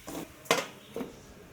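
Spoon stirring a cooking pot of stew with coconut milk and vinegar, three short clinks and scrapes against the metal pot, near and moderately loud with quiet gaps between them.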